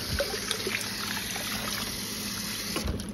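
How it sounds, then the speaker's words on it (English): Running water from a tap rinses a fermentation weight for pickles, a steady close splashing trickle that lasts throughout with slight variations as the weight moves under the stream, no talking. "I'm going to rinse it off because even though they're clean,"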